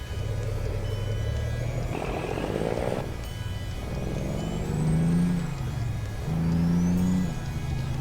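A Kenworth K100-E truck engine in American Truck Simulator pulls away, a steady loud diesel drone with rising revs and gear-change dips, alone without talk.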